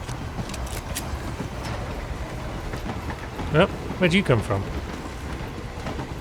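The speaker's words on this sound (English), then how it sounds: "Why are there assassins on this train?" A train carriage rolls along in the stealth game Hitman, giving a steady rumbling clatter throughout while a voice speaks briefly over it.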